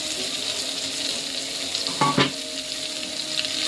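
Food frying in a covered pan on the stove, a steady close hiss and sizzle throughout with a couple of brief clatters of stirring midway.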